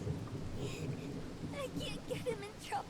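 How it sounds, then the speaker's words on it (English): Rain beginning to fall in the horror game Corpse Factory, a soft steady hiss with a low thunder-like rumble, heard faintly under a voice talking. "rain begins to spill from the clouds"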